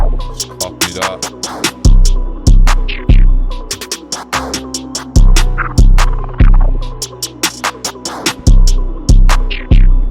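Heavy 808 bass drum hits, cranked to full velocity and alternating between classic and Super 808 variants, pound out a loud, steady beat. Booming, sustained low kicks land roughly every half second over busy hi-hats and clicks, with no voices.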